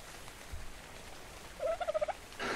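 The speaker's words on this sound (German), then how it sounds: "wir haben einen Dodo! Yay! Das ist unser erstes Huhn." A dodo in the video game Ark Survival Evolved gives a quick warbling run of clucks, a gobbling burst of several pulses, over a low game background.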